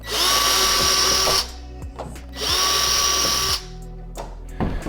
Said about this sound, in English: With all of the holes drilled, let's go ahead and remove these two screws.